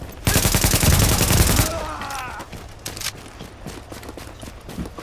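Gunfire in the video game Tom Clancy's The Division, a loud rapid burst of automatic shots that stops abruptly, followed by scattered quieter impacts and thuds.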